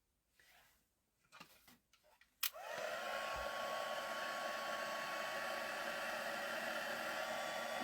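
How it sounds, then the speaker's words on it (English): After a few soft handling sounds and a click, a crafting heat tool starts up to dry an art journal page, then holds a steady loud whooshing blower hum with a faint whine, close and without talk. "And let's bring in that heat tool,"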